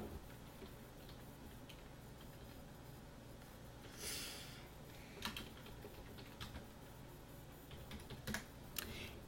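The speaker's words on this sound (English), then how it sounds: "we're going to go ahead and type a subject" Email subject typed on a computer keyboard, soft quiet key clicks in short irregular bursts, close but faint over a low steady room hum, with no talk.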